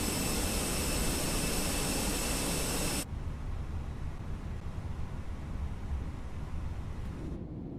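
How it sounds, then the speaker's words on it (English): An Airbus A320 jet engine in the Fenix A320 flight simulator roars as a broad, steady whoosh, then drops abruptly to a quieter, continuous rushing hum that holds to the end. "Let's get this engine started."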